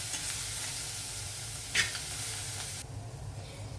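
Chopped onion, cumin, chilli and coconut sizzle steadily in a hot pan, with one brief louder scrape of stirring midway and the hiss easing slightly near the end.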